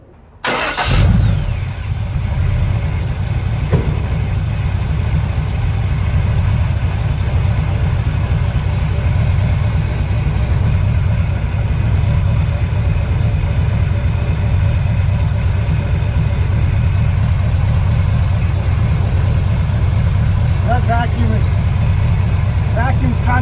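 A car engine fitted with an Edelbrock carburetor catches after a brief start and settles into a steady, loud, low rumbling idle that holds evenly throughout.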